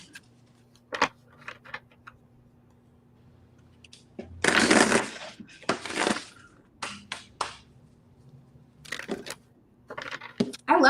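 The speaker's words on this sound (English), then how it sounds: "Do one more shuffle." Tarot cards shuffled by hand during a live reading, heard as a long burst of riffling followed by shorter flicks and taps, fairly close over a low steady hum.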